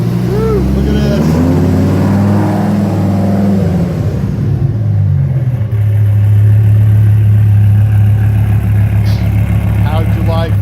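A 2002 Hennessey Viper's engine revs loudly and close as the car pulls out, rising and falling through throttle blips before settling into a deep, steady drone, with people talking over it.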